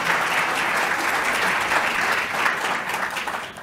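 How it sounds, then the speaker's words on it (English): An audience applauding a Living Planet Award winner after a keynote address, a sustained, dense round of clapping from a large crowd that fills the hall and holds steady throughout. "Can we give Dr. King another round of applause?"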